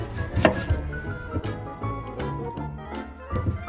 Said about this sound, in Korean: 당근은 그 갈비탕처럼 동글동글하게 썰어주는 게 맛있었어요